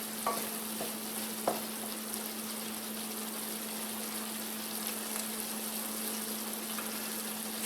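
Ground hamburger meat frying in a pan as its liquid cooks off, a steady close sizzle with a few faint clinks of a utensil stirring near the start.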